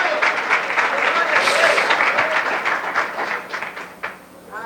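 A church congregation applauding during a sermon, a dense, steady wash of clapping that fills the clip, then thins and fades toward the end.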